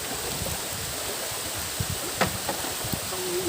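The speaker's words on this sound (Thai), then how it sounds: "รอฝนตก ไอ้รอฝนหยุดตกนะครับ" Heavy rain pours outdoors at a riverside fishing spot, a dense, steady hiss with scattered drip spatters, moderately loud and without any talking.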